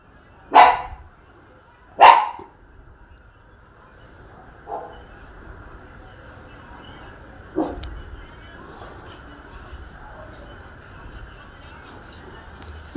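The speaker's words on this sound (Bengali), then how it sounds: "আমাদের বাড়ির ছোট কুকুর" A small pet dog in a home kitchen barks in two sharp, close bursts near the start, followed by a few fainter, scattered yips against quiet room noise.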